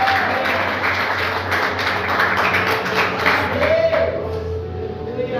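A church congregation claps steadily during a service, a dense, even wash of applause that continues throughout with faint voices beneath it.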